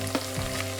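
Ingredients for Nigerian jollof rice fry in a pan, a steady close sizzle with a soft stirring scrape, no voices.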